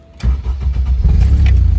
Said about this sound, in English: This is a full-on cold start.